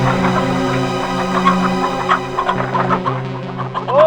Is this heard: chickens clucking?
yes